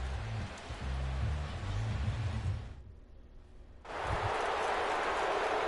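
Rain falls steadily on a ballpark during a Friday night game in the baseball video game MLB 17 The Show, a broad hiss under a low rumble. It drops out briefly for about a second, then returns louder.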